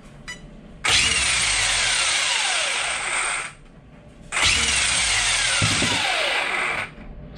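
Twin-motor RC car with ESCs revved hard on the throttle trigger, giving two loud, sustained whining bursts of about three seconds each, with pitch sweeping as the motors spin up and then cutting off sharply.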